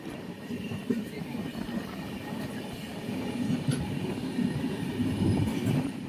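Sikkim Mahananda Express (15483) running through Dooars forest country between Alipurduar and Siliguri, with a steady rumble of wheels and carriages heard from on board, growing slightly louder toward the end.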